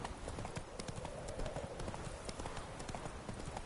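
Roach, a horse in The Witcher 3, gallops steadily with rapid, continuous hoofbeats close by, filling the whole stretch without pause.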